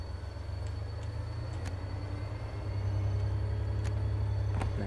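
A DB BR 363 diesel shunting locomotive in Train Sim World 2 on the Ruhr-Sieg Nord line, its engine a steady low rumble that grows slightly louder as power is applied to get moving.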